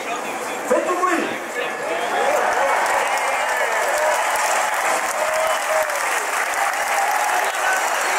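Racecourse crowd at Chantilly applauding before a horse race, a dense, steady wash of clapping and cheering that swells after the first second and holds loud and even throughout, with a voice faintly audible beneath.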